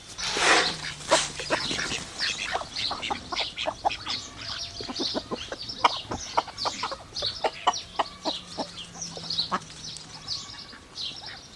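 Several chickens cluck and squawk close by in a busy, overlapping chorus, with occasional louder calls.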